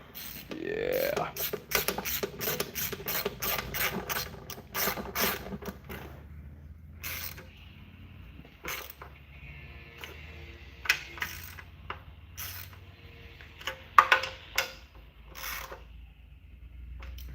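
A ratchet tightens a bolt on a car engine, first as a rapid run of close clicking strokes, then slower, spaced ratcheting bursts with light metallic handling sounds between them.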